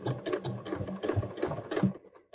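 A sewing machine stitching a waistband on pants or shorts, running in short back-and-forth bursts with a rhythmic mechanical chatter, close and moderately loud, stopping near the end.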